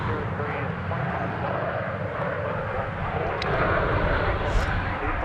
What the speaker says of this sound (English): 3-4 left now, cleared for takeoff for our Vietnam Airlines friends